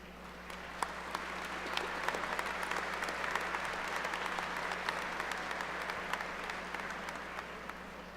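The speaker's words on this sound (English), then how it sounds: "Let's give them a huge round of applause to say thank you for their support." Audience applauding steadily throughout a nursing pinning ceremony, a dense wash of clapping from a large crowd that holds an even level for the whole stretch, with no talk over it.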